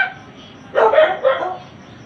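A couple of quick, close dog barks break a quiet background.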